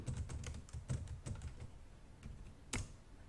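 Computer keyboard typing while a print function is written for a guess-the-number game, quick light clicks in short irregular bursts with one sharper keystroke near the end, close and fairly quiet, no talking.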